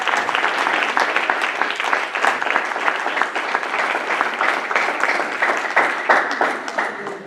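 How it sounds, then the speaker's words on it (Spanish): A seated church congregation claps hard to honor mothers at a Mother's Day service, a loud, dense, sustained wave of applause that carries on unbroken from start to finish. "todos los que están sentados van a aplaudir, pero con fuerza"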